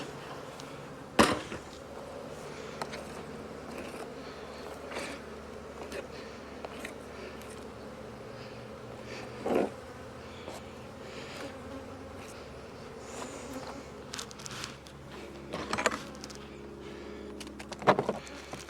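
Steady low buzzing of many honeybees at an open hive fills the air, with occasional clicks and knocks breaking through.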